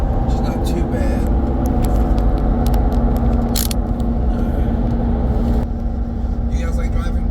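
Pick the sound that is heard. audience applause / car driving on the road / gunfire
car driving on the road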